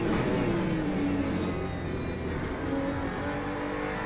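Ferrari LMGT3 race car engine at Interlagos in the Le Mans Ultimate racing game, a continuous loud, dense engine drone holding steady at high revs throughout, with no talking.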